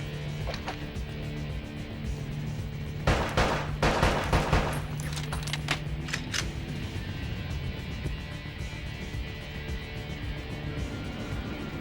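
Heavy video game gunfire in Bad Boys Miami Takedown on PS2: sharp shots and dense automatic bursts over a steady music and effects bed, loudest in a cluster of rapid cracks midway.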